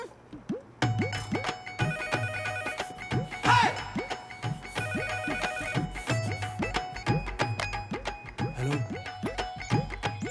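A phone ringtone plays in a repeating electronic melodic pattern at home, fairly loud and rhythmic, continuing throughout with no talk over it.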